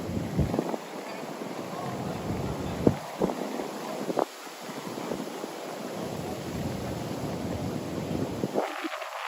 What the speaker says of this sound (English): Very breezy here.